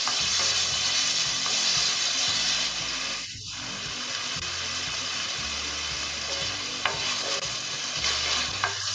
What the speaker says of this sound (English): Mix well and cook until the tomatoes are cooked.